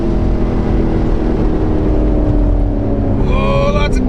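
A Chevrolet C7 Corvette Grand Sport with an AWE exhaust accelerates hard on back roads, a loud, close, steady engine roar climbing in pitch toward the end.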